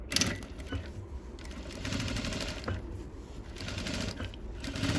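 A sewing machine stitches the neckline of a pattupavadai top, running steadily and close, with a continuous rapid mechanical rattle.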